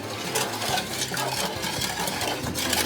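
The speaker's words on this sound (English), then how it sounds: "And then we mix it a bit." A mixture with fatty coconut milk is stirred in a cooking pot, giving a close, continuous scraping and swishing with faint clinks of utensil against metal.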